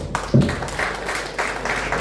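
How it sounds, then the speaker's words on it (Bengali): Audience applause breaks out at a Lions Club regional and zonal get-together, a short burst of clapping from a gathered crowd that stays steady through the moment, with no voices over it. "একটা হাততালি ওনার জন্য"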